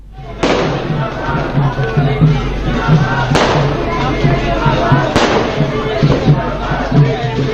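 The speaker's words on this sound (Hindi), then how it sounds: "आप पटाखों की आवाज़ सुन रहे होंगे" Firecrackers burst at a BJP state office celebration in Jaipur, with sharp bangs at intervals over a continuous crackle and a busy crowd murmur, voices talking throughout.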